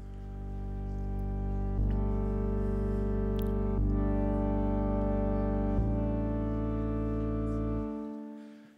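Game of Life cellular automaton turned into music, a sustained synthesized tone cluster of layered notes that shifts chord every two seconds, steady and mellow, ending abruptly.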